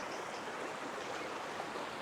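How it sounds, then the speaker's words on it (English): Spring water running down a roughly six-foot-wide stream channel on a hiking trail, a steady broadband rushing and gurgling that stays even and continuous, faint, with no voices. "Decent amount of water coming down through."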